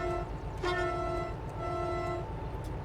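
A train horn in a train video game sounds a steady, tonal blast of about a second and a half over a low engine rumble, followed by a fainter tone.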